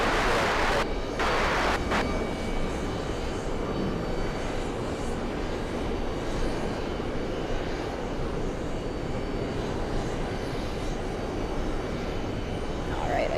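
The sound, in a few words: Delta A330 airliner landing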